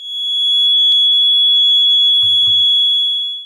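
A USI electric pull-tab smoke alarm, wired to AC power with its pull tab still in place, emits one continuous, loud, high-pitched steady tone up close, with a couple of soft handling thumps underneath.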